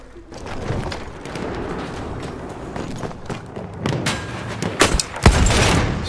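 Dense game gunfire from Battlefield 1 online Rush mode, a steady rattle of rifle and machine-gun shots with sharp nearby bursts and a heavy blast near the end, with no talking over it.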